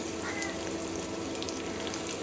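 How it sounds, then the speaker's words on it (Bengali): Onions frying in hot oil for biryani, a steady bubbling sizzle heard up close and fairly loud, with faint clinks over the continuous hiss. "প্রথমে আমি তেলে পেঁয়াজ বেরেস্তা করে নেব।"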